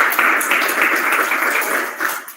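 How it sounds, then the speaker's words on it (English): An audience applauds at a pitching and mentorship event, a steady wash of clapping from many hands that holds evenly before tapering off at the end. "a round of applause"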